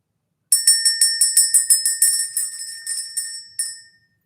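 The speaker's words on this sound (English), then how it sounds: "We're going to ring the bell." A small bell is struck in a quick run of about a dozen bright, ringing strikes during a spiritual energy-clearing ritual, each chime clear and close, fading out after the last hit in an otherwise silent room.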